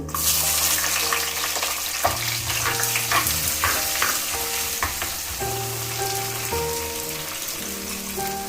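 Chopped shallots fry in hot oil for a grandma's fish curry. There is a steady, dense crackling sizzle throughout, with soft music playing underneath.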